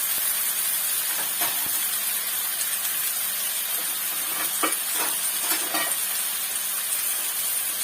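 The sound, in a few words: onions frying in oil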